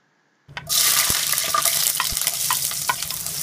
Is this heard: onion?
yes